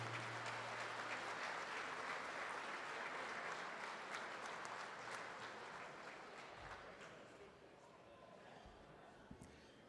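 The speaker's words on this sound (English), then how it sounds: "Give him a round of applause, please." Audience applause at a Catholic high school gala dinner, a broad, steady crowd clapping that fills the room and gradually fades toward the end, with faint sounds of people in the hall.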